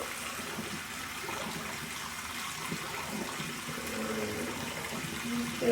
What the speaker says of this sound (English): and then I'll start splashing my face.